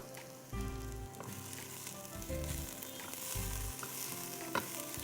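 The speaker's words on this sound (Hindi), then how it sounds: "प्याज हो गई है ब्राउन, उसमें आप लहसुन शामिल कर दीजिए" Onions frying until brown in a pan for ash reshteh soup, a continuous bright sizzle with intermittent low thumps of stirring and a short clink near the end, no voices.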